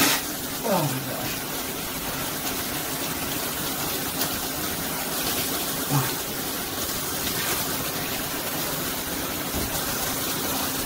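Water gushes and splashes without letup as a face is rinsed after being hit with UV paint from a mace gun, a loud close wash of sound with brief voices now and then.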